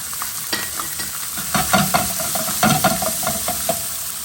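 Lemon sole fillets frying in a pan with halved grapes scattered over them, a constant bright sizzle close by, with light scrapes and taps of a utensil stirring through it and no voices.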